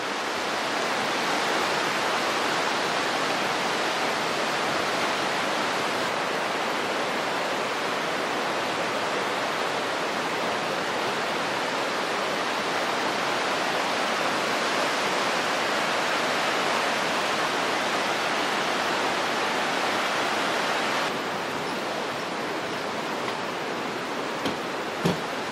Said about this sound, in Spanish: porque el río sí está bien crecido